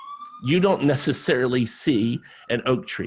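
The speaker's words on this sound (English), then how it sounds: "Sorry for the siren." A faint, wavering emergency siren plays in the background beneath a person speaking continuously at close range.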